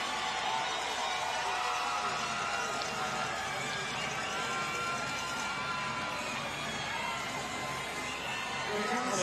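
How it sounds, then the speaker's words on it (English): A beach soccer crowd cheers at a Bahamas versus Trinidad and Tobago championship match, a distant steady roar of many voices with scattered shouts, continuous and moderately faint. "Crowd coming to life"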